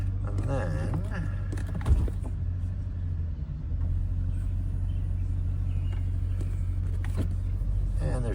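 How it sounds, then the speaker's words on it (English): A Lingenfelter-modified 2010 Mercedes-Benz SL550 AMG roadster engine starts, then settles into a deep, steady idle rumble that stays close and loud throughout, with a faint voice over it. "I'll actually start the car here."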